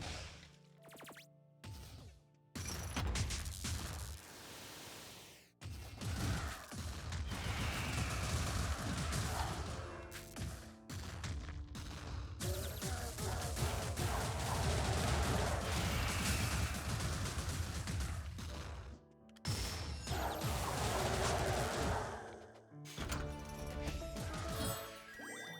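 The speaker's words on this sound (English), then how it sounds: "The explosions now burn enemies." Explosions and crashes in the video game Wizard of Legend burst repeatedly, loud and dense, with thuds, whooshes and rapid impacts broken by brief pauses.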